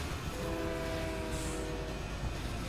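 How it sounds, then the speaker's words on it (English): A train in a video game rumbles past with a steady, dense roar and a faint sustained horn-like tone, loud and continuous with no talk over it. "It's stuck to the train. The train took it."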